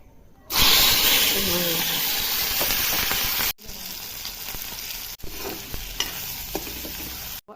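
Onion hits hot oil with a sudden loud sizzle that settles into steady hissing frying, interrupted by a couple of stirring scrapes and brief clicks.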